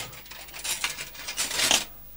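Steel cutlery clattering at a Christmas dinner table, a quick run of bright metallic clinks and rattles building to a louder jangle near the end, close and without talk.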